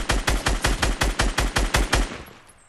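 Rapid automatic gunfire in a video game: about eleven evenly spaced, loud punchy shots in a steady rhythm, then a fading tail, with no voices.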